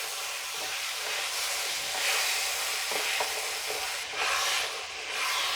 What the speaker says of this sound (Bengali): এবার সব কিছুকে খুব ভালো করে নেড়ে চেড়ে মিশিয়ে নেব।